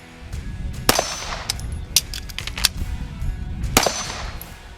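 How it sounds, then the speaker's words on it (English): Magazine reload on a Canik TP9 SFX pistol, sharp metallic clacks and snaps of the magazine dropping out and seating home, a few crisp close clicks over a low background rumble. "next I'm gonna do a mag reload and see how this mag release feels."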